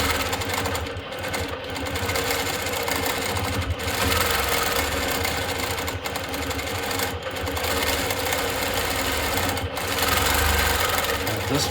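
Longarm quilting machine stitching feather patterns, with a continuous rapid mechanical whirring and needle chatter, close and steady, pausing briefly at intervals.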